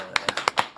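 Studio audience clapping to welcome a guest on a Korean political talk show, a short run of about six separate, sharp claps, close and crisp.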